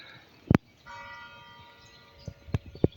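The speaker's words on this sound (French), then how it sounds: "écoutez les cloches" A few church bell strikes ring out in quiet outdoor surroundings, short bright clangs with lingering tonal hum between them, one early and a cluster near the end.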